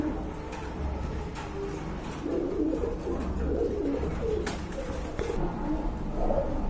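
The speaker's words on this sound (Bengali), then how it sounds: "কবুতরটা এত সুন্দর কবুতর" Pigeons coo steadily at a pigeon sale, soft repeated throaty calls close by over a constant background din, with a few sharp clicks and knocks scattered through.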